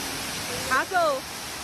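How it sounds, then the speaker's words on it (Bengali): Bakthang waterfall, running high with lots of water, gives a steady rushing hiss in the background while a person's voice briefly sounds over it. "তো আমরা চলে এসেছি সবাই মিলে বাকথাং ওয়াটারফলে"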